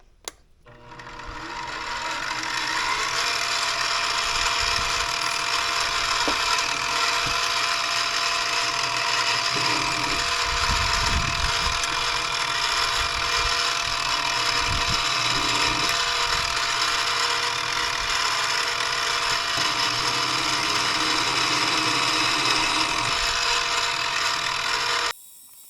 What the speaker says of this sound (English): so I'll drill a guide hole through it